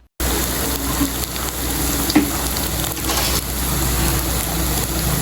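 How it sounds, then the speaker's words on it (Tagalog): Sardines fry in hot cooking oil, a loud, close, continuous sizzle and crackle that starts abruptly and stays steady with small pops throughout. "Siguraduhin lamang mga tol na mainit yung ating mantika para maiwasan yung pagdikit-dikit ng ating mega sardines."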